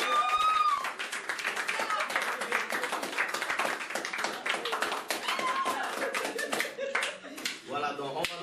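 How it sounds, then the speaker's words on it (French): Clapping at a health awareness campaign gathering, a steady patter of hands with voices chattering throughout and some bird cooing in the background. "Donc vraiment un grand applaudissement."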